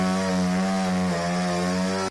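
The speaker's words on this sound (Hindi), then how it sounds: "इलेक्ट्रिक आरी की मदद से पेड़ों को काटकर" A steady, loud motorized saw drones with a buzzing harmonic whine, cutting continuously with a slight dip in pitch midway.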